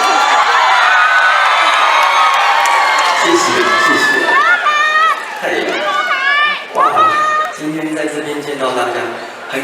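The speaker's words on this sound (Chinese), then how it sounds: "我那个尖叫声好像不太够" A concert audience at a charity show in a memorial hall screams and cheers loudly and continuously, with high whoops and shrill shouts rising repeatedly over the dense roar of the crowd.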